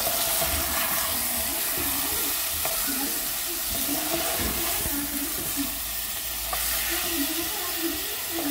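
Washed rice goes into a pot of hot pork lard with frying garlic, giving a steady, close sizzle with faint stirring and bubbling throughout and no talk.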